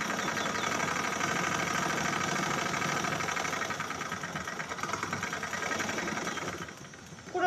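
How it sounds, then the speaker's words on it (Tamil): An electric sewing machine runs steadily for several seconds as it stitches a triangular piece onto a chudidar, with a close, even mechanical whir that stops near the end. "எண்டு வரைக்கும் தைச்சிக்கிறோம்"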